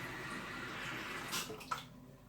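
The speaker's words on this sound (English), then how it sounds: "we're going to just pour out the water." Water is poured steadily off rinsed oats as a continuous splashing rush, then tapers to a few final splashes and drips.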